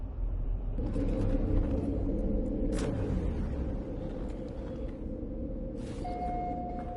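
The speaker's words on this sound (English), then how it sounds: "it definitely sounds like thunder." A low, steady rumble rolls on for several seconds, distant and broad, swelling slightly then easing, with a few faint higher clicks and tones over it and no talking.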